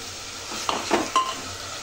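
Spiced chicken seasoned with coriander powder and garam masala frying in a pot, with a few utensil scrapes and clinks from stirring over a steady low sizzle, moderately close.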